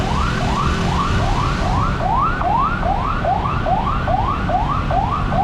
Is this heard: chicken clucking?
no